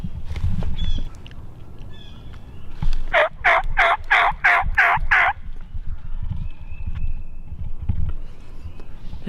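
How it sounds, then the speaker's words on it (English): A wild turkey in a Tennessee spring woods gobbles once in a rapid run of about seven pulses, moderately distant and alone over low rustling and ambient woodland noise, with faint birdsong around it. "This turkey's moving."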